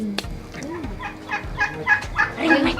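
Several farm turkeys gobbling in quick repeated bursts, fairly close, with the calls overlapping and building in loudness toward the end, set against a quiet outdoor background.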